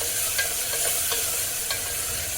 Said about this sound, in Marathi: आलं लसूण पेस्ट भाजून घ्यायची